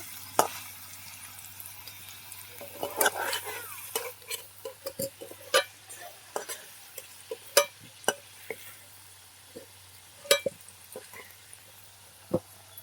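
Cauliflower frying in oil in a pan, a continuous close sizzle broken by frequent sharp clicks and scrapes of a spatula stirring, with no voices.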